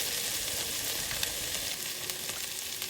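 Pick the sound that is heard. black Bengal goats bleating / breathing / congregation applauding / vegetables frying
vegetables frying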